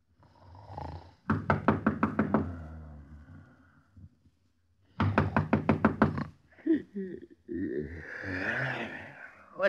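In a classic radio crime drama, two bursts of rapid knocking on a door ring out, each a quick string of sharp raps, followed by voices speaking.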